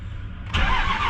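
A truck engine cranks briefly and then catches, rumbling into a rough idle close by.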